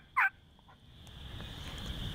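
A wild turkey tom gobbles once, a short loud burst standing out from a quiet outdoor backdrop during a Michigan spring hunt, with faint low rumble and wind filling the rest.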